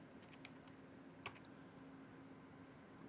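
Very faint, distant keystrokes on a computer keyboard, a handful of soft scattered clicks over a steady background hiss.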